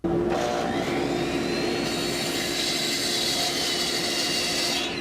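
A power saw runs steadily while cutting wood pieces for a lidded box, a loud continuous whine and roar that holds without a break for about five seconds.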